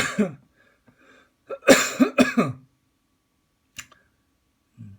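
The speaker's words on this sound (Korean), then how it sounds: "자꾸 제가 기침해서 죄송합니다." Three or four sharp, close coughs from a lecturer with irritated airways come in a quick cluster, followed by quiet and a faint click.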